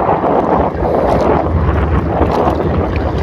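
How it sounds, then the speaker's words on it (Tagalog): Strong wind buffets a fishing boat out at sea, a loud, continuous roar of gusts hitting the microphone, with the rumble of water and hull beneath and no voices. "malakas ang hangin ngayon"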